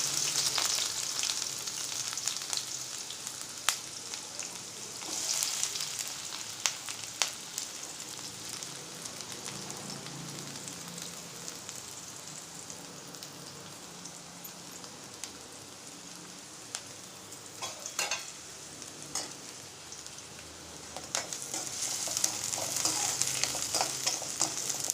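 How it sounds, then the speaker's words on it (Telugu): Onion pieces frying in two tablespoons of oil for a ridge gourd and soy chunk curry: a steady hissing sizzle throughout, with occasional stirring clinks, close and moderately quiet. "Two table spoons of oil వేసుకున్న తర్వాత ఉల్లిపాయ ముక్కలు వేసుకోవాలి."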